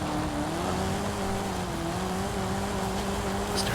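A Chevrolet Camaro engine in a racing video game drones steadily with a slowly rising pitch, as if holding speed or accelerating, loud and continuous with no talk.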